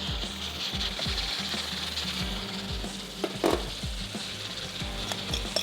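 A chicken piece frying in a very hot pan for a grilled chicken sandwich, giving a continuous close sizzle with soft spatula taps and a few sharper clinks near the end, no talk.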